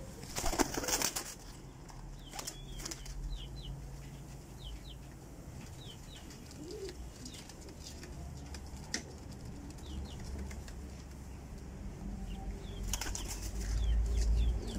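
Pigeons released from the hand burst into flight with a loud flurry of flapping wings near the start, then more scattered wing flaps and faint coos over steady outdoor background noise.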